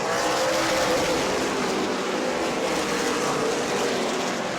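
Race cars roar side by side down the backstretch at Auburndale Speedway, a loud continuous engine drone that holds steady throughout with no voices over it.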